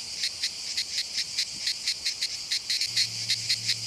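Cicadas singing in a limestone calanque setting at Port Miou, a loud pulsing chorus of rapid regular rasping bursts, steady and close, with a low hum joining near the end.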